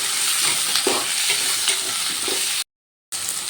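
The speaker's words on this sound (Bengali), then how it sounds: "এবার কাঁচকলাগুলো দিয়েও একটু ভাজা ভাজা করে নিচ্ছি" Green plantain and vegetables for shukto fry and get stirred in a pan, a steady close sizzle with scraping stir strokes throughout, broken by a brief silent gap near the end before the sizzling resumes.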